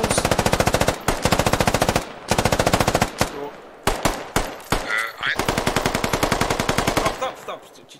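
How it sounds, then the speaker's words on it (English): Machine gun suppressive fire in the British Army Simulator video game, long loud rapid bursts of automatic shots broken by brief gaps and a few single cracks, with faint voices beneath. "It's called suppressive fire."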